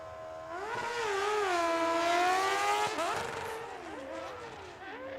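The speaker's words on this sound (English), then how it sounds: "Well, the good news is the rev limiter works." A stretched-out swing arm drag racing motorcycle at Tucson Dragway screams up to its rev limiter, holding a high buzzing wail with rapid stuttering cuts before the engine note drops and fades, loud and close.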